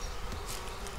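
Bees robbing out a beehive in winter, a dense continuous buzzing swarm close by with brief louder flybys, no talking.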